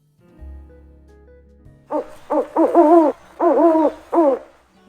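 A clear series of hooting calls from an owl, six rhythmic hoots in quick succession after a quiet low hum, close and distinct.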